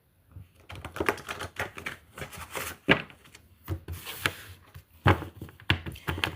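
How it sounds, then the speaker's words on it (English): A deck of playing cards is split and shuffled, with a series of close, rapid riffling rasps and soft slaps coming in uneven bursts. "I'm just splitting the deck to shuffle the cards before I even pluck them out."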